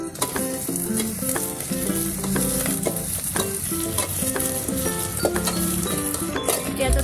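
Mutton stir-frying over a wood-fired chulha, a steady continuous sizzle with the clink and scrape of a spatula against the pan, close and loud throughout with no voices.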